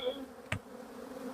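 A honey bee buzzes close by at an opened hive during an apiary inspection, a short soft whine with a brief louder buzz at mid-point, no speech.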